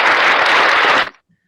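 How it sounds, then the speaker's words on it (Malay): Classroom applause for a student who did well on a Form 1 maths lesson on integer operations: a loud, dense burst of clapping lasting about a second, then cutting off abruptly into silence. "Kita kena bagi tepukan dulu."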